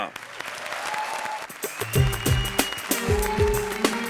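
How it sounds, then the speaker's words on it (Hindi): Studio audience applause greets the first contestant of Big Loss Season 5 on a Hindi comedy show: a wash of clapping rises while a bright, rhythmic music sting with punchy beats kicks in over it. "सबसे पहले बिग लॉस सीजन 5 के पहले कंटेस्टेंट का स्वागत करते हैं, जोरदार तालियां"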